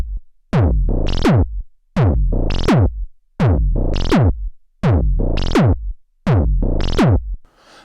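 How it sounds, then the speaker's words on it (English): A looping electronic drum pattern from a DFAM drum synthesizer, punchy, pitch-sweeping synthesized hits in a steady repeating phrase, loud and up close with no voices. "I've got a sequence going from the DFAM that sounds like this."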